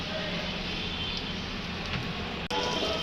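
Chopped onions frying in cooking oil, a dense, constant sizzle heard close and loud from start to finish, briefly dipping once near the end.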